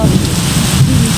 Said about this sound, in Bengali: এখন বৃষ্টি হচ্ছে প্রচণ্ড পরিমাণে।